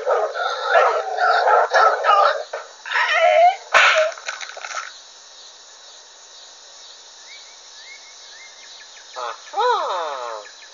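A dog barks, snarls and attacks a man: a loud, dense burst of barking and scuffling fills the first five seconds, then quiet with faint chirping and a short squeaky whistle near the end.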